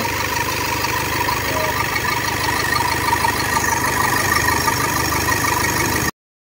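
A Toyota Fortuner diesel, brought in after stalling on the road with a suspected turbo and low-power fault, idles steadily and close up with a constant rumbling clatter, then stops abruptly.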